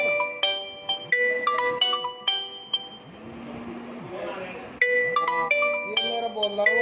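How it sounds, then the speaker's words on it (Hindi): Phone ringtone chiming in bright, repeated electronic bursts, pausing briefly in the middle and then resuming, with someone speaking during the gap. "फोन आ गया सर।"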